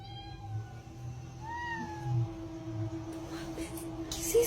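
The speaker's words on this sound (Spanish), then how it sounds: "Llegó la noche y el gato apareció." A cat meows several times at night indoors, drawn-out tonal cries rising and falling over a low steady hum, with no talking.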